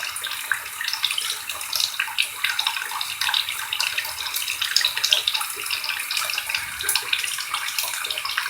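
Tap water runs steadily into a bathtub, a continuous close hiss and splash that holds an even level for the whole stretch with no talking.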